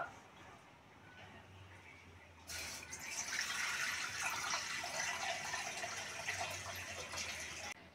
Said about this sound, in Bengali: কড়ার মধ্যে জল দিয়ে দেবো